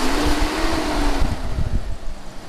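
A Jeep Cherokee XJ's 4-liter inline-six engine revs up close, a loud rising drone that peaks then settles back toward idle, with some wind buffeting on the microphone.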